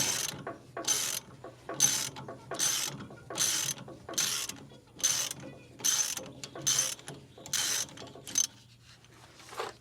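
A ratchet wrench loosens the spring tension adjustment on a heavy-duty economy flail mower for a tractor, clicking close up in about eleven quick rhythmic bursts with short pauses between them.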